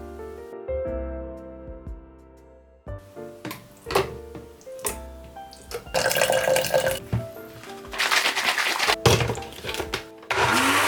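An electric blender purees soaked red beans into a fine paste, whirring in bursts that build to a loud, rough grinding roar, with brief pauses between runs.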